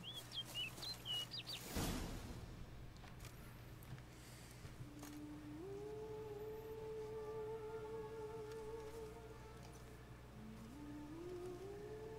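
A small bird chirps in The Witcher 3, giving a few sharp high tweets at the start before settling into faint, sustained whistling tones over a low ambient hum.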